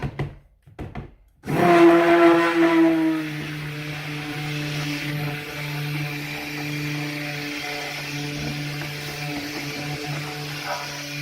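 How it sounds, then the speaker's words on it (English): A stick blender mixing soap batter for a chocolate cake-style soap switches on after a few short knocks, running as a loud steady whir that settles into a continuous hum. "We're ready to bring in the stick blender."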